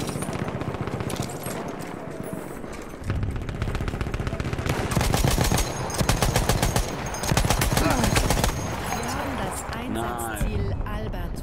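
Battlefield 1 online Conquest match with heavy machine-gun fire, loud rapid bursts stacking into long sustained volleys, scattered single shots and battlefield rumble, with someone talking over the action.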